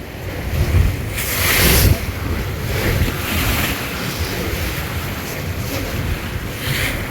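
River waves slap and rush against the hull of the Surabhi 7 launch on the Meghna, a dense roar of water and wind buffeting the microphone, with a few stronger surges, close and continuous.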